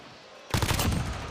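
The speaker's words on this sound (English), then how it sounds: "And Abel will cut him down, though, through that hail of gunfire on his teammate" Rapid automatic gunfire in a Call of Duty esports match between Dallas Empire and Seattle Surge breaks out suddenly after a quiet half second and continues as a dense, loud burst.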